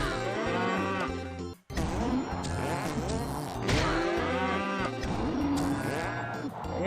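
A cartoon cow in the Rabbids Rumble video game moos loudly several times in drawn-out, wobbling calls, with game music and effects continuing beneath and a brief gap of silence partway through.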